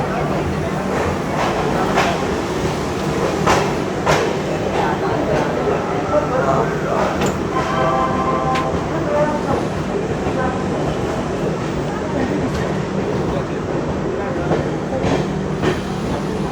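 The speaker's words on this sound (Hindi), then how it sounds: "अपनी ट्रेन का डिपार्चर हो गया है विरंगलाबाई झांसी रेलवे स्टेशन से" The Chennai Garib Rath express rolls out of Jhansi station, a steady loud rumble with repeating wheel clacks over rail joints and an occasional faint squeal, heard from on board while a voice talks over it.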